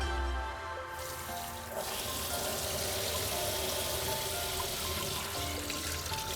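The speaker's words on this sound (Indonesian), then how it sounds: "Oke, kita siram dulu dengan air mengalir." Water runs steadily from a tap over crabs being rinsed, a continuous splashing hiss that fills the whole stretch without pause or speech.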